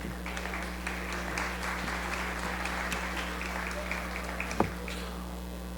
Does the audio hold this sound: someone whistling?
no